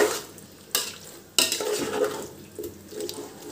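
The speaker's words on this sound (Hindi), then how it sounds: "बहुत ही अच्छे से हम मिक्स कर लेंगे" Raw chicken stirred into a wet masala in a pot for Hyderabadi dum biryani, with close squelching, sloshing mixing sounds and a couple of sharp knocks of the spoon against the pot.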